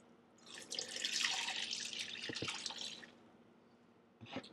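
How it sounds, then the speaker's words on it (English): A faucet runs into a plugged sink for a few seconds in a steady hissing splash, then shuts off, followed by a couple of soft drips. "Let's make sure the sink is plugged."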